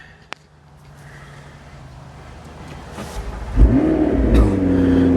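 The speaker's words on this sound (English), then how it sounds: "Go ahead and shut the car off, just so you can all see a fresh restart" A 2015 McLaren 650S Spyder with repairable salvage damage restarts after being shut off: a quiet lull, then the engine catches with a loud bark and settles into a strong, close idle with a couple of throttle blips.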